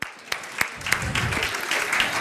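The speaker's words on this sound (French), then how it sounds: "On l'applaudit." A studio crowd on a French game show breaks into applause after a contestant's win, a few sharp claps first, then swelling into steady, moderately loud clapping.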